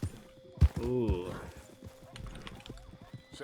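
Video game horse hooves clip-clopping in a steady, moderate series of hoof strikes, mixed with a brief whinny near the start and speech over it.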